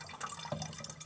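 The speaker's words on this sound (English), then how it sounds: "So I'm going to add some water" Water from a tap runs and drips into a container inside a camper van, a short trickling pour with light splashing, close and fairly quiet.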